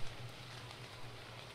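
Steady, faint rain hisses in the survival game ARK during a daytime fishing scene, a soft continuous wash with a low hum beneath and no voices.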